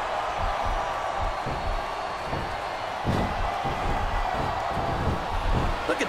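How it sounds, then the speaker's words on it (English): Arena crowd noise from the WWE SmackDown vs Raw 2007 wrestling game on Xbox 360, a steady roar of the audience during a triple threat match, with rhythmic chanting pulses and mat thumps beneath a commentator's voice. "Listen to the crowd, JR."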